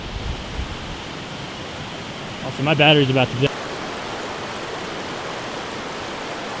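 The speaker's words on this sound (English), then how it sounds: "I don't know if you can hear me over the river, it's super loud" A loud river on a hiking trail, rushing with a constant heavy roar throughout, while a person speaks briefly over it.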